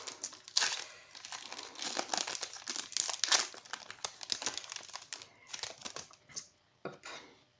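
Foil wrapper of a Pokémon Sword and Shield Rebel Clash booster pack crinkling and tearing open up close, a dense run of crackly rustles with brief pauses, loud and without talk.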